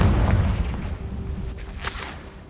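A Confringo blasting spell explodes in the video game Hogwarts Legacy: one deep booming blast that rolls and decays over a couple of seconds, with a faint crackle afterward.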